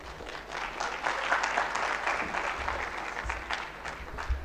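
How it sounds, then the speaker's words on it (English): Applause from an audience at a national young scientists' exhibition award ceremony, steady dense clapping throughout with a slight swell in the middle, no speech over it. "Another round of applause for Evans"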